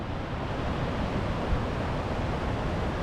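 Swollen River Trent running high beneath a tall suspension bridge over a deep valley, heard as a steady, dense broadband rush that stays even and fairly loud throughout, with no voices.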